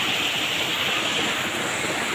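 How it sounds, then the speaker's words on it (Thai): Waterfall at Tham Soda falls, water pouring down over rock ledges into shallow pools, a steady close rushing roar with no break for the whole stretch. "เพราะว่าเขาจะเป็น น้ำตกไหลท่อลงมาตามโขกหินเนาะ"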